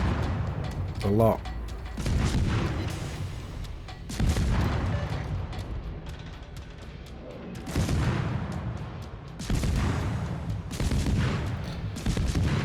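Destroyer guns on the Forrest Sherman firing in World of Warships, a few heavy booming salvos at intervals, mixed under steady talking.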